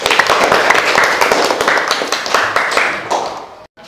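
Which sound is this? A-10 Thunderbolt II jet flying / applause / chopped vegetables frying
applause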